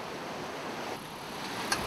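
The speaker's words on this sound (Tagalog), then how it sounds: "Malakas ang alon." Strong sea waves churn as a steady, broad wash of surf and wind noise at sea, fairly faint and unbroken throughout.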